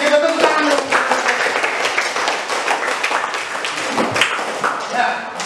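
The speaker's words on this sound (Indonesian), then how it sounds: "Oke, kita tepuk tangan dulu." A classroom of students claps their hands together at length, with dense, steady applause running through the whole stretch while voices mingle underneath.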